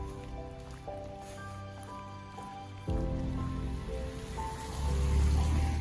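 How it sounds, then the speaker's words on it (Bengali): Rain falling on a mountain trek near Tinchuley, Darjeeling, a steady patter and dripping that grows heavier midway, heard close under a low background hum with no talk. "বৃষ্টি চালু হয়ে গেছে বৃষ্টি পড়ছে"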